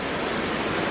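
River water rushes beneath a crossing in Ciudad Colón, Costa Rica, a dense, continuous close roar of flowing water with no pauses.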